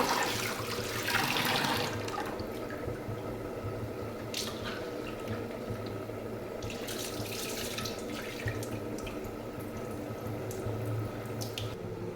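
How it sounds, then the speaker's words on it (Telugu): Ration rice washed in water for ragi sangati, with splashing, swishing and dripping close by over twelve seconds, a louder burst near the start, and no voices. "రేషన్ బియ్యాన్ని నేను నాలుగు సార్లు కడుక్కుంటున్నాను"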